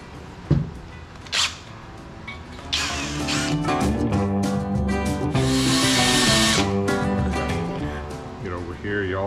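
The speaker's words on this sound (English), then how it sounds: "Drill all the way through with this bit." A drill bit bores into a Porsche engine block lubricated with cutting fluid to fit oil squirters, giving a close, loud, grinding whine that starts and stops in short bursts, then settles into a steadier cut lasting several seconds.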